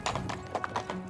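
Donkey hooves clip-clop in the Medieval Dynasty video game, a quick run of rhythmic, fairly close hoof knocks over a brief moment.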